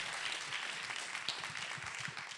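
A small audience gives a polite golf clap at a business development mastermind session, a soft, steady patter of scattered hands that holds at low volume throughout without voices.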